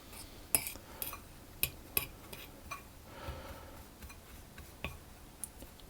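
Spoon scraping and clinking in a bowl of almond flour, salt and baking powder, with sharp, irregular metallic ticks and soft stirring rustles, fairly close and quiet, with no talking.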